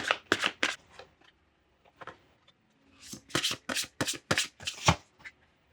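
Oracle cards being shuffled for a tarot reading: two bursts of quick riffling and slapping card sounds, close and crisp, separated by a brief near-silent pause with a couple of soft taps.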